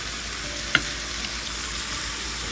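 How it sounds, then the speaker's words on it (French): Kefta meatballs frying in a pan and stirred gently, a steady close sizzle with a single soft scrape of the utensil partway through, no voices. "on va touiller tout doucement pour pas abîmer nos boulettes."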